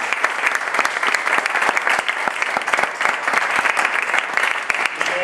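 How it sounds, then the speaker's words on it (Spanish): An audience at a talk bursts into loud, sustained applause, dense overlapping clapping that continues steadily throughout. "Sí, pues un gran aplauso."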